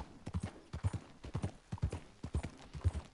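Horse hooves clip-clopping at a steady walking rhythm while riding through the world of Red Dead Redemption 2 on PS4 Pro, regular soft thuds, fairly quiet, with no talk over them.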